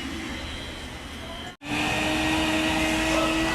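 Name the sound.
wet and dry vacuum sucking water from car carpet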